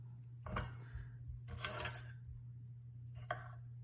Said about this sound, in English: I'm just dicing that up